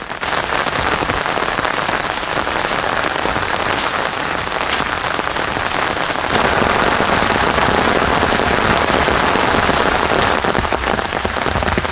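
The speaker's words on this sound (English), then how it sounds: "Since it is raining heavily, all the water resources will be dirty" Heavy rain pours down in a dense jungle, a steady, loud hiss of drops striking leaves and ground throughout, with no voices.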